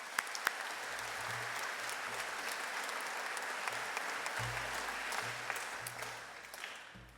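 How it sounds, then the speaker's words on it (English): Audience at a Unitec graduation ceremony in a hall breaks into steady, sustained applause of many hands, moderately distant, with faint low tones underneath and no speech over it. "Could we please just give these people a huge round of applause for making today happen?"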